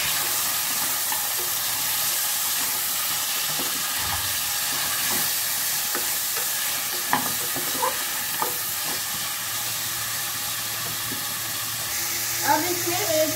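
Mutton trotters go into a pan of onions, producing a steady frying hiss and sizzle with occasional small clicks and stirring knocks. A voice speaks softly in the background.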